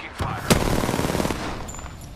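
Rapid automatic gunfire in the video game Apex Legends crackles in a burst of close, sharp shots, with a loud crack near the start and scattered rattling after.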